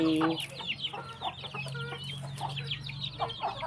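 Chickens clucking at a chicken coop, several birds giving close, busy overlapping clucks and short squawks throughout.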